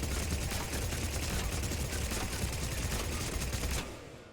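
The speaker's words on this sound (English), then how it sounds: "This is basically like a mercenary SMG." A mercenary-style SMG firing a long, rapid burst in Mass Effect 3, loud and dense automatic gunfire that rattles on steadily for nearly four seconds before cutting off.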